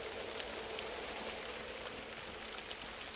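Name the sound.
rain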